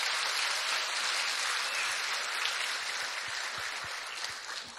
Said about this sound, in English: Let's give all of our Junior Miss contestants another big round of applause.